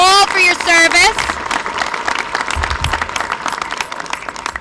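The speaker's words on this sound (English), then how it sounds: "Give yourselves a big round of applause." Outdoor crowd applause on city hall steps at a law enforcement union rally, a burst of clapping and cheering that starts under a speaking voice and continues dense and fairly loud.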